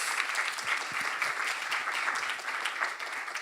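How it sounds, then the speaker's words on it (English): Steady, moderately distant audience applause at the Global Art Forum welcome in Dubai, a continuous even patter of many hands with no talk. "I want a round of applause for those three people in particular."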